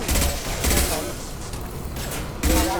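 Weapons fire in a Mass Effect 2 firefight as bursts of rapid gunshots arrive in clusters, loud and close, separated by short lulls of combat noise.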